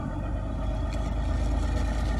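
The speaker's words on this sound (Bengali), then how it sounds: "এই ট্রলার আসছে জেটি ঘাটে" A trawler's engine drones steadily as the boat comes in toward a jetty, a loud continuous low rumble with no break and no voices.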